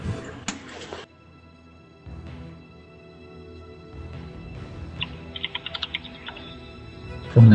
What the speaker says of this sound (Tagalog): May maingay pala yung keyboard ko, sorry.